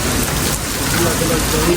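Heavy rain pours down in a dense, steady hiss, loud and close, with drops pattering on surfaces throughout and no clear breaks.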